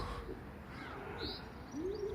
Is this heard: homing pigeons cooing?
yes